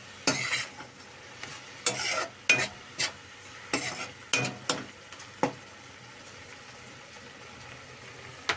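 Onion paste for chicken curry frying in oil, with a spoon or spatula scraping and stirring the pan in a rhythmic series of sharp strokes over a steady low sizzle, no talking.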